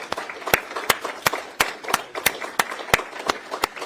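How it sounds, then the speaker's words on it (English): Applause at a think-tank forum, heard as sparse, evenly spaced sharp claps, close and fairly quiet, repeating roughly every third of a second like one person clapping steadily. "We'll give you some applause."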